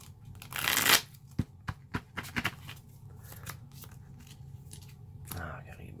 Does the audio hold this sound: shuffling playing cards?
yes